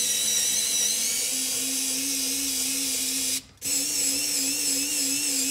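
Hammerhead HCSD040-02 rechargeable screwdriver running at its single speed, a steady high-pitched whine close by, briefly cut off for a moment midway and then resumed.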